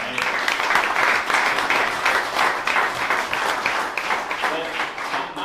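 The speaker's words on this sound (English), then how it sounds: "So round of applause for your faculty and for the people presenting" An audience gives a round of applause for faculty and presenters at a business pitch event, a dense, sustained burst of many hands clapping at close range with some voices mixed in.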